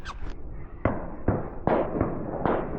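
Shotgun blasts during a public-land duck hunt in Arkansas, a rapid volley of six loud sharp reports from several guns, some overlapping, booming close by with no speech between them.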